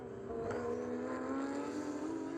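A Porsche Cup race car at Spring Mountain passes at a distance, its engine a faint, steady droning whine with a slight swell partway through.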